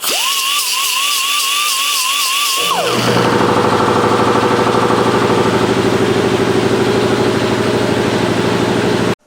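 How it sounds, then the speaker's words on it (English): A mini air hacksaw cuts a metal part clamped in a vise while building a homemade overhead-valve Briggs engine. A steady whine runs for a couple of seconds, then gives way to a loud, continuous rapid buzzing rattle up close. "I took my little mini air hacksaw and stuck it in the vise here"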